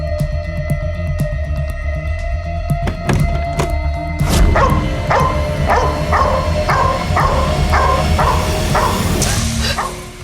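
A dog barks repeatedly in a steady rhythm of sharp, mid-pitched woofs over a droning dramatic music bed, fairly close and loud after a heavy thump.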